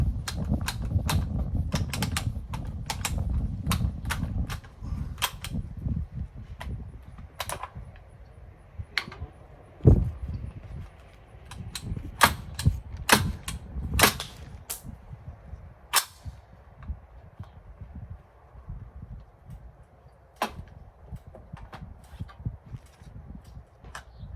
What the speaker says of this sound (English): I'm gonna try and get these 3 rounds to go in the battery, see if we can get them to shoot